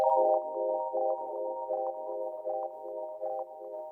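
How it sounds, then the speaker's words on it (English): Clean sine-wave tones pass through Octatrack effects in a dub techno setting, a steady stack of pure pitched tones pulsing in a gentle repeating rhythm with no voices. "These are just clean sine waves."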